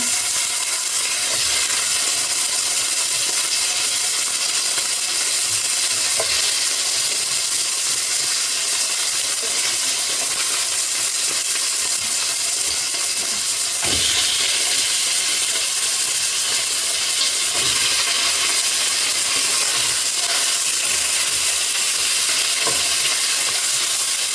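Chicken pieces frying in a pan, a loud steady sizzle and hiss with occasional stirring scrapes, heard close up with no voices.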